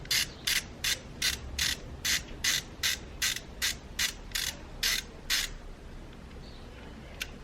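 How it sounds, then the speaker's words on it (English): A ratchet loosens a bolt on a Golf MK6 GTI camshaft position sensor with a T30 bit, about a dozen sharp evenly spaced clicks in a quick steady rhythm, close and clear, then quiet. "turn it counterclockwise, take the bolt out, make sure you don't lose this bolt."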